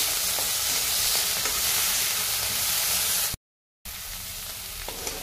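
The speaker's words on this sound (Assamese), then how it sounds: "এইখিনি ধুনীয়াকৈ ভাজি ল'ম" Small shrimp sizzle in a pan with a steady, close, even frying hiss and light stirring, broken by a brief dead-silent gap before the sizzle resumes.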